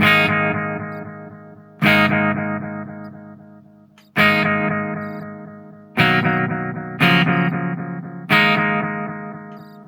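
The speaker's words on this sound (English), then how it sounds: "Echo Press 900." A guitar plays strummed chords through a JBL practice amp with the Echo Press 900 delay. Six bright attacks arrive at uneven intervals, and each rings out and decays under a smeared wash of repeats. The sound is close and loud.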